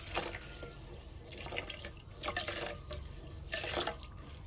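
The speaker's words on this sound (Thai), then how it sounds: "ใส่น้ำสำหรับหุงเราจะใส่น้ำให้เหมือนกับหุงข้าวปกติเลยนะคะ" Water is poured into a rice cooker pot over rice for zongzi-style sticky rice, a close splashing, trickling flow that swells in several surges with a few drips, no speech.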